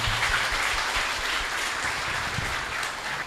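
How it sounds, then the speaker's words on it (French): A church congregation applauds steadily, a dense wash of clapping that fills the room at a constant loud level throughout. "Acclame Jésus pour ça"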